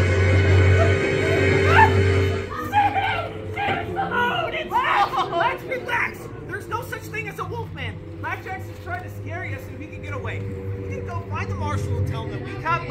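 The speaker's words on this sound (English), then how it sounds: "Slash, that was just a dog." A dog barks and yips repeatedly, near and fairly loud, amid chatter during a live western comedy skit staged outdoors at Trail Dust Town in Arizona.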